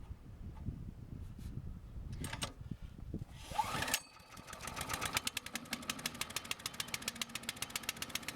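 An Earthquake K32 chipper shredder's gasoline engine is given a hard pull on the recoil starter, catches after a few seconds and settles into a close, steady, rapidly pulsing idle.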